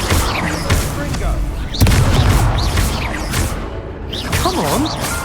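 Confringo explosive spell blasts in the Hogwarts Legacy video game, loud booms and whooshes amid a busy duel soundtrack, with a voice shouting spell names over the combat.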